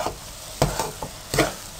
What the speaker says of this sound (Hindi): इस तरह से आपने साथ साथ इसको तोड़ते भी रहना है